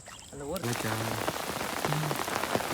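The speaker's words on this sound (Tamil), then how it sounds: "மழை பெய்ய ஆரம்பிச்சிருச்சு" Rain pattering steadily on an outdoor surface during a ball-bait fishing trip, a continuous dense patter with scattered louder drops, while a voice talks briefly near the start.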